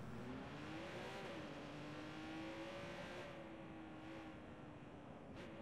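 Ferrari engine in the video game Watch Dogs 2, a steady droning rev that rises and shifts in pitch, heard alone without voices.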